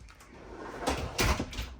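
A door in the rear master bathroom of a 2021 Forest River Cedar Creek 371FL fifth-wheel RV swings open, giving a couple of close, soft thuds and a light rattle in a quiet interior.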